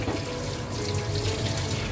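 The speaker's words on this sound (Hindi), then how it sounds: "पहले हाथ धो लेते हैं।" Tap water runs steadily into a kitchen sink as hands are rinsed before kneading naan dough, a close, continuous splashing wash with no voices.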